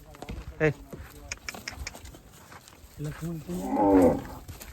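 Cattle low on a farm among cows, with a bull close by, giving a few deep drawn-out moos, the loudest near the end, while people talk in between the calls.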